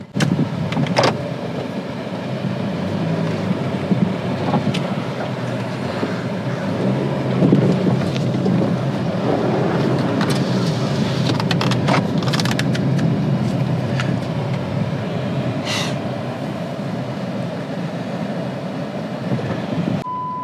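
A Jeep Compass drives along on a test drive after a crankshaft position sensor replacement, with a steady low engine and road rumble from inside the cabin, occasional rattles and clunks and no talking.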